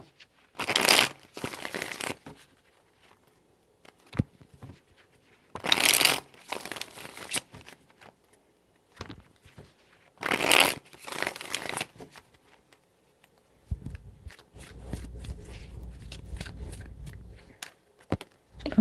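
Tarot cards shuffled by hand in three distinct riffling bursts separated by quiet gaps, close and crisp, with a low hum and faint handling noise near the end.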